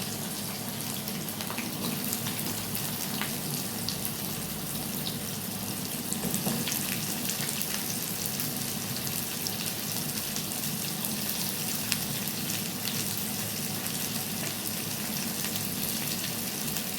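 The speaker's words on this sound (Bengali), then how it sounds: "আরেকটি কড়াইতে আমি তেল গরম করে নিয়েছি, আর এই তেলে আমি এবার দিয়ে নেব আমার পেঁয়াজ।" Onions hitting hot oil in a kadai give a steady, even sizzle and hiss that runs unbroken for about seventeen seconds at moderate loudness, with no talking.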